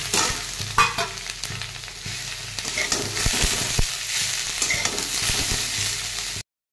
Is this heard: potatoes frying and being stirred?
yes